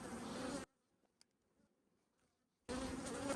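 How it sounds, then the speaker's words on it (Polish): Honeybees buzz on a frame from a small nucleus colony being inspected, a dense, close, steady hum at the start and end with a near-silent gap in the middle. "Mało tu pszczoły jest w tym odkładzie."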